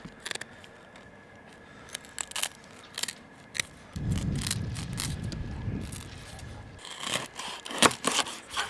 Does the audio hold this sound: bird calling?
no